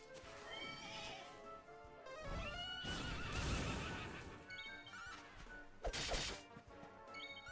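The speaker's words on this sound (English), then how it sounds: "Hi there, horsey." A horse neighs in the video game Dragon Quest XI, with whinnies mixed among game music, busy effects and a few sharp hits, moderately loud throughout.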